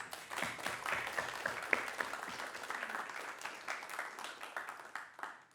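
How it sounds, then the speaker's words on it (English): A conference audience at a security talk breaks into applause, a fairly faint, dense patter of many hands with scattered sharper claps that thins out toward the end, heard alone without speech. "so it deserves some applause, right?"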